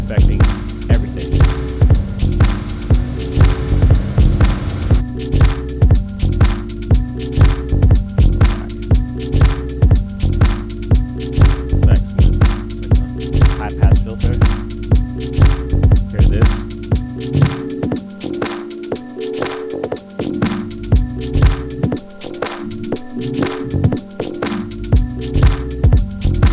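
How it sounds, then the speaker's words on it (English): Programmed beat playing on a Pioneer DJS-1000 sampler with the effects pad slowly brought up, a steady loud looping groove of kick, bass and hi-hats whose tone gets filtered and swept as the effect deepens, with no talking. "if I hit the track, slowly bring the effects up, you'll be able to hear it affecting everything."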